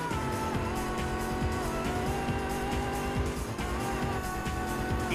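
A race car roars continuously on a dirt oval track, engine loud and close with a rising and falling drone and a hint of tire scrabble, no voices over it.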